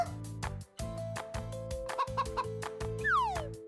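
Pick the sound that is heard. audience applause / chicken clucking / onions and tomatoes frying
chicken clucking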